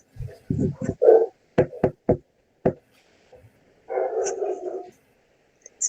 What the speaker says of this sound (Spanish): Esperamos a que dejen de ladrar.